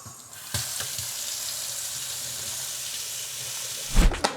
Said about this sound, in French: On met ça dans le shaker et ensuite 200 ml d'eau.